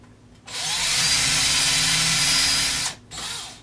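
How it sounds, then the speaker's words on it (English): A power drill bores a hole sized for aluminum wire, winding up to a steady, loud, high whine held for over two seconds, briefly cutting out, then spinning up again. "I want to get it started"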